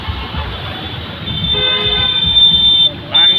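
Busy street traffic in a Morbi bazaar near railway tracks, a steady rumble of engines under which a loud, sustained horn blares for over a second, cuts off briefly, then sounds again close by.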